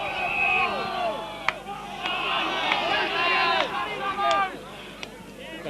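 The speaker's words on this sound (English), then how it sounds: "The crowd got a bit excited there." A crowd at a 1989 country Australian football B-grade match, a continuous excited hubbub of many voices with scattered shouts and a few sharp knocks, fairly close and loud.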